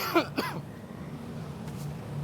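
A person gives a couple of quick, rough coughs close by at the start, followed by quiet room tone with a faint voice-like murmur.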